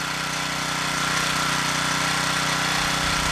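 A KTX Radical pocket bike's small pull-start engine running steadily after starting, a loud, continuous buzzing idle with an even rhythm and no talk over it.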